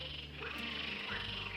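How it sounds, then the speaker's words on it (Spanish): Dense chorus of frogs croaking in a swamp, a continuous rasping, trilling wall of sound heard from some distance, with no talking. "Son ranas, que desde aquí no se ven, pero están en el pantano."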